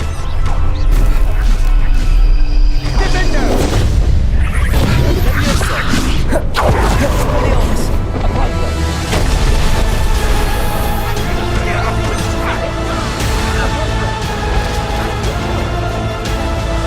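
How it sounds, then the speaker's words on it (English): Spell combat from the video game Hogwarts Legacy, with loud magical blasts, slams and fiery whooshes layered over a steady orchestral score, including a sharp crash around the middle. "Slam with Descendo, Roast with Incendio, devastate your enemies using various finishes."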